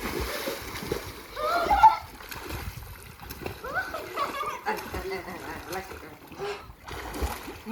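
Water splashes and sloshes in a swimming pool as children swim, in irregular bursts that rise and fall, with voices talking throughout.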